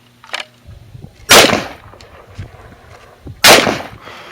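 Two loud, close 5.56 rifle shots fired outdoors into a stack of three snowboards, each a sharp crack with a short ringing tail, about two seconds apart, after a fainter click.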